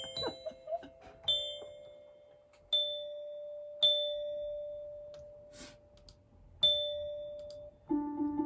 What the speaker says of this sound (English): Some sort of bell. Sounds like a doorbell.